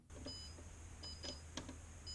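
A 3DRudder foot mouse gives short, high, clean beeps on left clicks, three or four spaced over two seconds, faint against a low steady hum.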